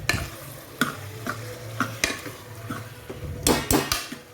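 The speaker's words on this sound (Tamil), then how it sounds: "இந்த மசாலையில் வந்து நல்லா வந்து கறியை ஒரு பெரட்டி எடுத்துக்கலாம்" Meat being stirred through thick ground masala in a pan, with repeated scraping clatters of a spoon against metal over a steady low sizzle, close and fairly loud with a few heavier knocks near the end.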